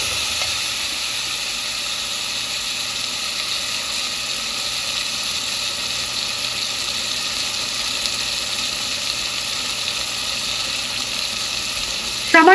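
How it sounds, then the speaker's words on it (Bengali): Tomato and potato pieces fry in a pan while being stirred, giving a steady, even sizzle and hiss throughout, with a short scrape near the end and no voices. "টমেটো আর আলু খুব ভালোভাবে নাড়াচাড়া করে নেব।"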